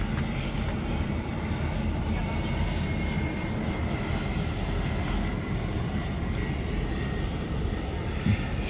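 Airplane landing near Vancouver, a loud, continuous engine roar and rumble holding steady throughout with no clear rise or fall.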